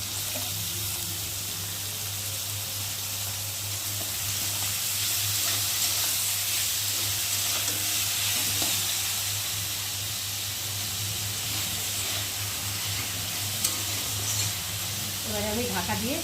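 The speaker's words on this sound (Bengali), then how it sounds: "আর এখন কুচিয়ে রাখা আলুগুলোকে দিয়ে পেঁয়াজের সাথে একসাথে ভেজে নেব।" Chopped potatoes and onions fry together in a pan with a steady, dense sizzle, and a low hum runs underneath.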